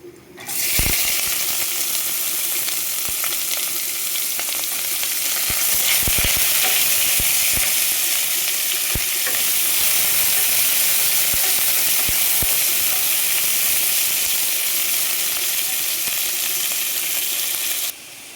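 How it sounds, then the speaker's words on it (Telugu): Onions frying in hot oil for carrot rice, giving a loud, continuous close-up sizzle and hiss that holds steady for the whole stretch, broken by faint occasional clicks of a utensil; no voices. "తర్వాత ఇప్పుడు ఉల్లిపాయలు వేయించుకోవాలండి"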